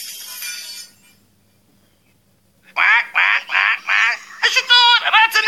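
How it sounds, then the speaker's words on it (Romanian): After a short burst of voice and a pause, a duck in a comedy skit lets out a run of loud, close quacks: five evenly spaced calls followed by a quicker, more ragged cluster. "Ajutor, rață nebună, fugiți, bă!"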